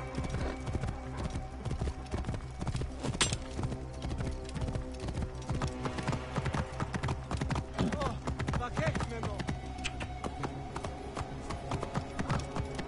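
Steady clip-clop of horse hooves in Assassin's Creed Origins continues throughout with a faint snort, set in a busy, layered background.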